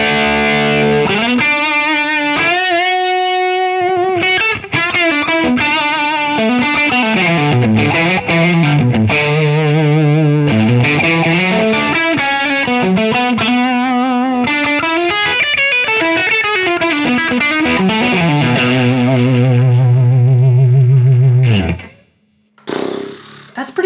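Electric guitar through an FM3 modelling an ODS-100 Ford amp with the overdrive cranked, heavily saturated sustained notes and bending, sliding lines, loud and close for about twenty seconds, then a sudden cut and a few brief noisy bursts.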